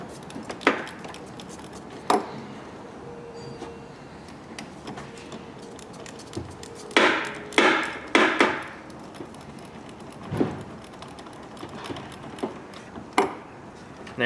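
Close, sharp metallic clicks and ratcheting of an 8mm socket wrench loosening the negative battery terminal cable on a Chevrolet S-10 Blazer, scattered taps with a short burst of quick clicks midway, no talk.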